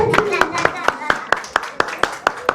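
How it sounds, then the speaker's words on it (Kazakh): Rhythmic audience clapping at a Nauryz community celebration, evenly spaced loud claps in a steady beat, close by, with people talking underneath at the start. "Ду қол шапалақ"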